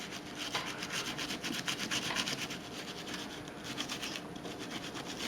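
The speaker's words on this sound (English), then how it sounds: "So you just want to brush it on like that." A brush scrubs the metal slide of a Smith & Wesson M&P 45 pistol with cleaner, a steady close-up scratchy rubbing made of rapid back-and-forth strokes that runs on without any talk.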